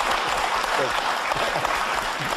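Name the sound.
audience applause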